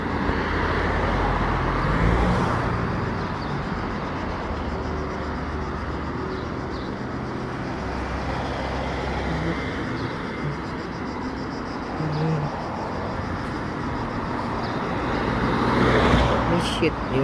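Fast traffic rushing past on a road in Dubrovnik, Croatia, a continuous loud roar of passing cars that swells near the start and end, heard from the roadside.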